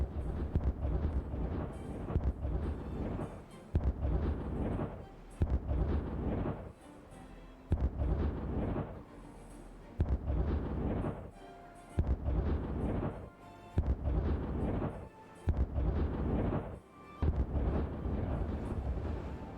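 Explosions in Timberborn's Iron Teeth megabuild come as a long series of heavy, booming blasts in repeated bursts, loud and rumbling, each separated by brief near-silent gaps, with no talking over them.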